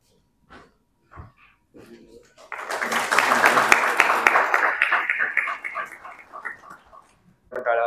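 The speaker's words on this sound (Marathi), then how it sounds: "टाळ्या वाजवून त्यांचं स्वागत करूयात." An audience at an entrepreneur awards ceremony in Nashik claps to welcome guests, with loud, sustained applause that swells and then slowly fades after a few brief sounds at the start.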